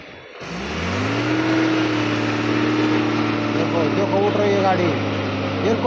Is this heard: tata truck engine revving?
yes